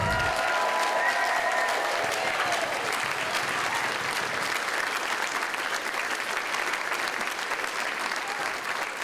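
An audience at a cultural diversity awards ceremony applauds the standing nominees, with steady, dense clapping from a large crowd that holds for the full nine seconds at moderate level.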